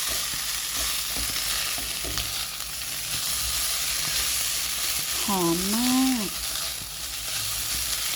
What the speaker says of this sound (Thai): ผัดไปเรื่อย ๆ